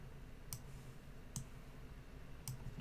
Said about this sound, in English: And then we'll right click on those,